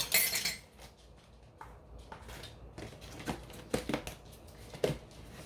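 Metal tablespoon and metal spatula clink and scrape while measuring and packing an ingredient for a carrot mug cake, with a few sharp, close taps and scrapes spaced irregularly over quiet background.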